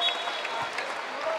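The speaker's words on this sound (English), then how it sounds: "now Ung Bin Hong getting a nice applause" Crowd applause at an ASEAN Basketball League game as a player heads to the bench, a brief, moderately loud spatter of clapping in an arena.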